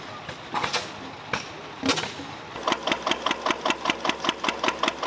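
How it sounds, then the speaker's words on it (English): Antique steam and gas engines run at an outdoor steam and gas show, first with scattered irregular bursts, then settling into a steady, evenly spaced chuffing beat of sharp exhaust pops, fairly close and loud. "Those are the sounds of reliable engines that still work today."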